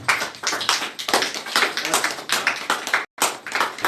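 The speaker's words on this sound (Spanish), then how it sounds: "¿Cuántos le pueden dar un aplauso al Señor?" A church congregation at a men's Sunday service gives a round of applause to the Lord, with close, lively clapping in uneven bursts and a momentary break before it resumes.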